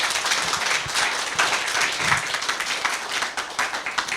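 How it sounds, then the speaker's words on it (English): A hall audience gives a round of applause to the speaker after a talk on the Shakespeare industry, a dense, even wash of many clapping hands held at steady loudness throughout. "Can we have a round of applause, please?"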